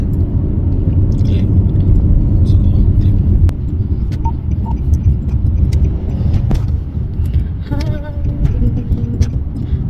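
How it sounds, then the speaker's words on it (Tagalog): Road traffic on a city center street with many cars passing, a dense continuous low rumble of engines and tires with occasional faint higher clicks and tones. "Daming sasakyan."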